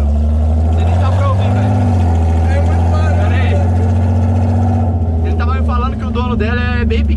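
A hot rod fitted with a BMW engine rumbles loudly and up close, with a deep, steady drone while people talk over it throughout.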